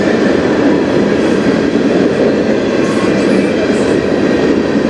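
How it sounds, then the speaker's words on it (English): A freight train rolls past on the Strathroy Subdivision, a loud, steady broadband rumble of wagons and wheels that holds constant throughout with faint high squeals near the end, no talking. "This train might be a little more common with it."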